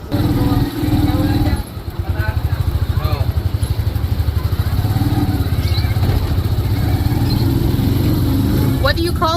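A motorized tricycle engine chugs steadily during a ride through Manila streets, a loud low rhythmic putter with clatter and passing traffic, while people talk over it.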